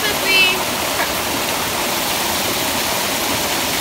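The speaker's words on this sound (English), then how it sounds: "Apparently this water here goes to a waterfall that looks amazing." Steady broadband rush of a stream flowing toward a waterfall on a hiking trail in Paramin, Trinidad, a constant close wash of moving water with no pauses.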